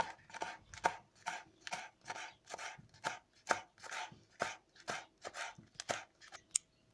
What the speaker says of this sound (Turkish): küçük küçük doğrayacağız